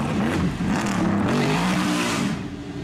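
Mercedes race car at the Goodwood Festival of Speed, its engine roaring loud and close with rising and falling revs through a run, the note easing off at the end.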